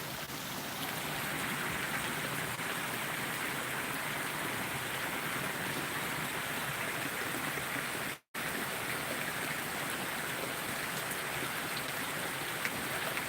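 Very heavy rain pours in a continuous, loud broadband roar for the full length, with a single brief dropout partway through and no voices.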